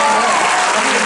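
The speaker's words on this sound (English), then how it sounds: "that deserves applause" Loud, dense applause erupts from the audience at a Hocus Pocus anniversary panel, a thick continuous wash of clapping over the brief moment.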